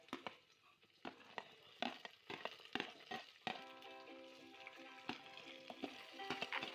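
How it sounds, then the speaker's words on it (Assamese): Chopped vegetables frying in a pan over a medium gas flame for veg pulao, with a soft continuous sizzle broken by frequent sharp clicks and scrapes of stirring. "এতিয়া মই চব্জিখিনি অকণমান টাইম ভাজিব লাগিব"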